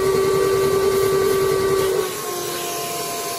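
A homemade carpet extractor vacuum runs with a loud, steady whining hiss and a strong tonal drone that drops in pitch partway through, then keeps going at a slightly lower level; no voices.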